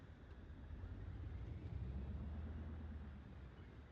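A nine-cylinder radial aircraft engine in Flight Simulator 2024 runs with a steady, deep low rumble that swells slightly midway and holds loud and continuous throughout, with no voices.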